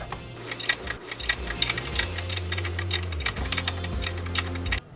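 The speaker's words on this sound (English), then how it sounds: "So we need to tighten this bolt in." A bolt being tightened into a freshly welded piece of metal, heard as a steady run of quick mechanical ticks and clicks over a low machine hum, close and fairly loud throughout.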